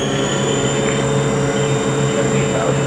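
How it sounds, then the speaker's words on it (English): A Haas vertical machining center's spindle spins up in RPM, giving a steady, loud whine with a constant high tone over a broad mechanical hum. "We're going up in RPM."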